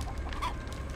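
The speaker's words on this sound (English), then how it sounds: "Shut up, chicken." A chicken clucks in The Texas Chain Saw Massacre game, a brief quick cluck heard over a constant background hum.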